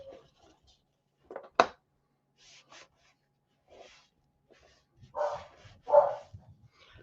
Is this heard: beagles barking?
yes